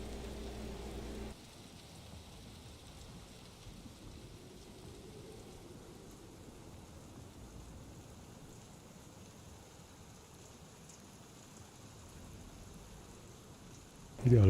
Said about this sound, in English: to stand in some rain like this.